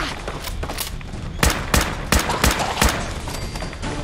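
Gunfire in Fallout 4 during a fight with ghouls: a burst of several loud, sharp shots in an irregular rhythm, close and prominent over steady game background noise.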